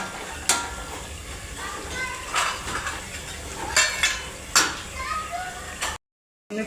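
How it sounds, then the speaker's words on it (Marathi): Black masala and roasted masala are stirred and fried in oil in a pan, with repeated metallic scrapes and clinks of the spoon over a low sizzle, and faint voices in the background. "चांगलं परतून घ्यायचा काळा मसाला आणि आपला भाजलेला मसाला मिक्स करून घ्यायचा. तेल सुटेपर्यंत भाजायचा,"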